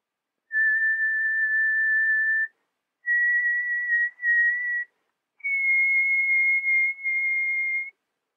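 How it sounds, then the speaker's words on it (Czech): A person whistles three clear, sustained notes, each held steadily, separated by short pauses, with the last note pitched slightly higher. "můžeme si zapískat třeba celou písničku, abyste viděli, jak to funguje"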